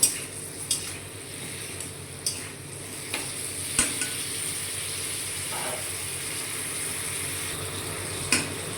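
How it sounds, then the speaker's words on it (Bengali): Tomato and ginger frying in a pan with a low, continuous sizzle, broken by occasional sharp taps and scrapes of a spoon against the metal. "আমি এক দু মিনিট একটু ভাজা করে নেবো"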